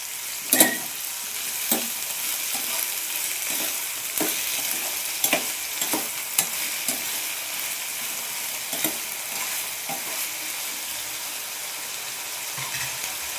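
Ridge gourd and tomato fry in a pan over medium flame, with a steady hiss of sizzling and intermittent scraping knocks as the mixture is stirred, close and without speech.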